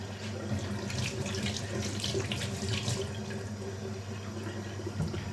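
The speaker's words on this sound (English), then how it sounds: "start off with washing the apples here" Tap water runs steadily into a sink while apples are rinsed under it, a continuous splashing flow with light clatter, close and fairly quiet, with no talking.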